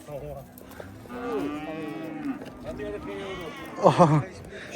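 A dairy cow at the Shymbay livestock market moos in drawn-out calls, followed by a louder, sharper bellow near the end, while people talk throughout.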